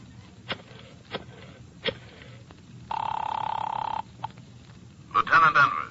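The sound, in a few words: telephone being used, radio drama sound effect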